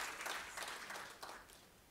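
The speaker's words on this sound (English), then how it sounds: "And I'd like to give a round of applause to all of you who are here today." Conference audience applauding, a broad wash of clapping heard from within the hall, fairly faint and fading toward the end, with no voices over it.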